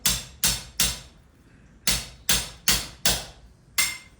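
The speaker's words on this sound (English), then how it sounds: "You can do it by hammer" Sharp metallic hammer strikes ring out in an uneven series while shaping a wrench, eight blows with short gaps and a pause midway, close and loud.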